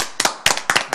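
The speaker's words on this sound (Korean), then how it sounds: "아, 박수 한번 치고 갈까 그러면?" A few sharp claps close by, spaced irregularly, loud and crisp with quiet gaps between them.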